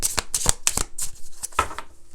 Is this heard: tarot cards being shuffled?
yes